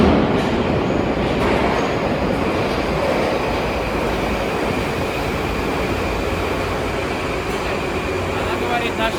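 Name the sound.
electric commuter train passing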